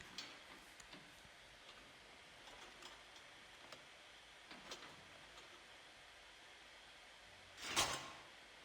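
Cage door lock opening in Assassin's Creed 3, a single sharp metallic clack near the end, fairly loud against a quiet background of faint ticks and light clicks.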